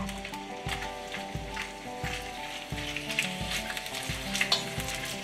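Mallard duck meat sizzles and spits in a hot stir-fry pan, a close, steady crackling fry with sharper pops, over a looping background music bed.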